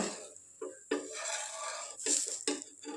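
A metal spatula scrapes and taps against a hot tawa as a crispy potato dosa is lifted free, giving a few short sharp scraping strokes and clicks at close range with quiet kitchen background.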